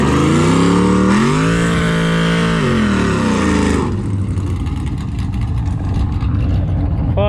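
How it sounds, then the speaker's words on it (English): Truck burnout at a Mexico street race: a loud, close engine revs and holds high, its pitch rising and falling, then drops off into rumbling idle and crowd noise as voices chatter in the background. "Did he do a burnout?"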